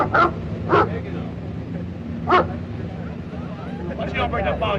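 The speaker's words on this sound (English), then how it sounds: "Dog's gonna get you." A dog barks and yips in several sharp bursts, close by, with people talking over a background murmur.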